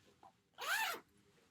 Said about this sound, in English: Zips up just fine.